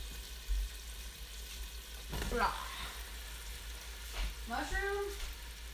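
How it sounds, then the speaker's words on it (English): Mushrooms and onion hit a hot pan and begin frying with a soft, steady sizzle, punctuated by a couple of louder spatters and stirring sounds, with a brief whine-like sound near the end. "let's start getting the mushroom and onion in"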